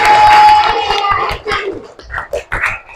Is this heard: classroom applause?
yes